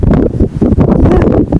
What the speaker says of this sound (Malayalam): അതിശക്തമായിട്ട് കാറ്റാണ്.